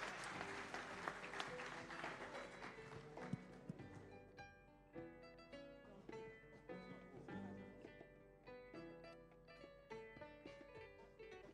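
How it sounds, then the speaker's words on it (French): An audience claps at a ceremony, a faint, dense patter of many hands that gradually thins into scattered claps. "Applaudissez."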